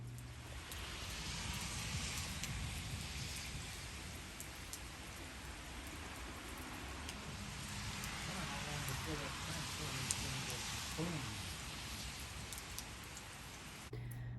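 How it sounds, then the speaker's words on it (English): Steady rain pours down outdoors, a dense, even hiss of drops hitting surfaces that holds at a constant level throughout, with no voices. "It was absolutely a beautiful rain. It was just coming down."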